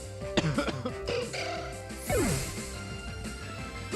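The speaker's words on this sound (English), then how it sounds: "my cough is still here" A person coughs a couple of short, harsh times over the bright electronic music of the Pokémon Moon game.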